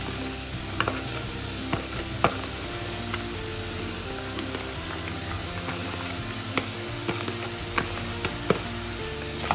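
Leeks sauté in a pan for leek and potato soup, giving a steady, dense sizzle with occasional sharp ticks and spatters from stirring, continuous and close throughout.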